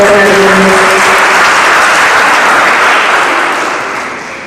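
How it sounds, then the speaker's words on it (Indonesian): Loud audience applause in an auditorium at a student business plan competition workshop, a thick, even roar of clapping that begins as a voice finishes and fades out toward the end. "Boleh tepuk tangan untuk acara hari ini."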